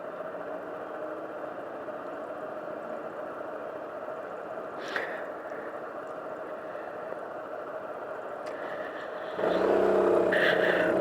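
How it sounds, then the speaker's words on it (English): Steady highway traffic drones on State Route 21, heard from a helmet-mounted camera on a moving rider, a constant wind-and-engine rumble with a brief passing whoosh midway and a louder surge at the end. "It is a highway."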